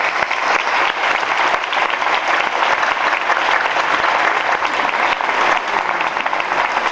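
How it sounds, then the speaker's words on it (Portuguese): Audience applauding three speakers at a Gandhi Week event: steady, dense clapping from a sizable crowd, sustained at an even level for the whole stretch with no voices over it. "Nosso aplauso para eles."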